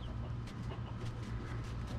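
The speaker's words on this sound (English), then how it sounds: "full-size chicken" A full-size meat chicken in a backyard coop gives soft, scattered clucks over a steady outdoor background.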